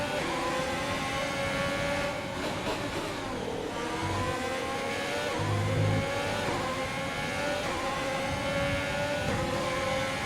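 A Formula 1 race car engine in the F1 2020 racing video game drones steadily at high revs, a loud continuous whine with slight pitch shifts and no pauses.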